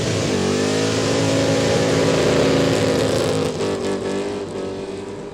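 A race car on brand new tyres accelerates hard at a quick street drag day in Kooralbyn Valley, its engine a loud sustained roar climbing steadily in pitch, then easing slightly as it pulls away.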